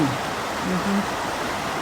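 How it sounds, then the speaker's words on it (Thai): An Icelandic waterfall gives a steady, broad rushing roar, continuous and fairly loud with no breaks. "เฉพาะน้ำตกอย่างเดียวนี่ เสียงน้ำตกจะดังดัง"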